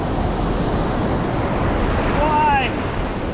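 Ocean waves wash at a beach in a steady, close roar mixed with wind buffeting the microphone, with a faint bird-like chirp near the end.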